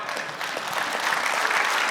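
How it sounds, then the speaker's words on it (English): A church congregation claps together, a dense, steady roar of hand claps that holds at an even level for the whole stretch, near and fairly loud. "Give yourself a hand clap."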